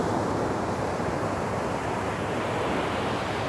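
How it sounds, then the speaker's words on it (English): Steady rushing water fills the whole clip, a broad even wash like surf or a strong stream, with no voices. "hearing the water is relaxing"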